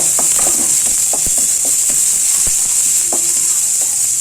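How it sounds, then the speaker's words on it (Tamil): Loud, constant hiss of onions frying in hot oil, with scattered clicks and taps of a spoon stirring through it. "வெங்காயம் போட்டு வதக்கிக்கலாம்."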